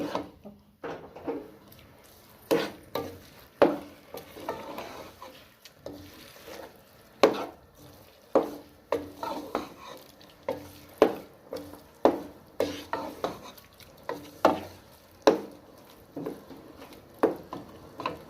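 Carrot halwa being stirred and roasted in a pan, with repeated scraping and knocking strokes of a spoon against the pan in an uneven rhythm over a soft frying sizzle, fairly close and moderately loud, with no talk.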